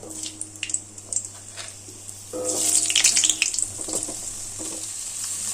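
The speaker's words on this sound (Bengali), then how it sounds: "গ্যাসের ফ্লেমটা হাইতে করে আলুটাকে দুই তিন মিনিট ভেজে নেব" Cut potatoes hit hot oil seasoned with panch phoron and dried red chillies over a high gas flame, some faint clinks first, then a bright crackling sizzle rising and continuing close by.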